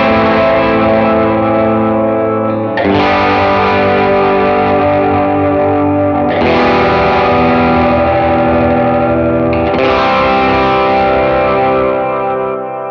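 Electric guitar driven through a Timmy-style stage-one overdrive with a dotted-eighth delay and cloud-like reverb, playing sustained chords that swell in four strong phrases, loud and continuous with no talk, in a worship song part.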